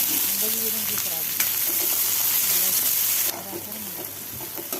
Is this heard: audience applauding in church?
no